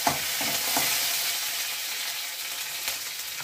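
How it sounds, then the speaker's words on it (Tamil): Curry leaves sizzle steadily in hot oil while being stirred in a pan for wheat rava upma, a close, continuous frying hiss with light scraping, no talking. "இப்போ கொஞ்சம் பார்த்து கருவேப்பிலை 4 கருவேப்பிலை போட்டுக்கோங்க."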